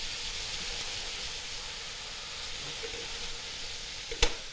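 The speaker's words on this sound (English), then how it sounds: "that's the noise you want when you add something to a hot pan" Stew ingredients sizzle in a hot pan, a steady close frying hiss that carries throughout, with a sharp clink of a utensil near the end.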